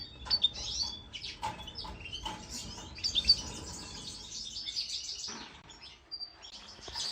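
A female canary and her chick, a sparrow cross, call and chirp close by in a series of bright, rapid trills and short tweets, irregularly spaced over a quiet background.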